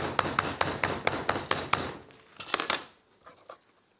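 Pork chops pounded with a meat mallet: about eight rapid close thuds in a steady rhythm, then a short pause, a few more blows, and fading quiet handling noise.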